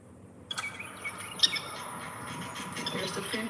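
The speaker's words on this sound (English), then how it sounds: "There's the finches" Finches chirping and calling in short high tweets over a steady background hiss, fairly faint and somewhat distant, starting after a brief quiet moment.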